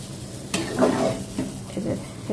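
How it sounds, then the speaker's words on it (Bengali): Garlic frying in a spoonful of oil, a soft sizzle broken by several scraping, stirring clinks of a utensil against the pan, close by and without talk. "জাস্ট একটু রসুনটার ফ্লেভারের জন্য মানে ভাজার জন্য দিচ্ছি"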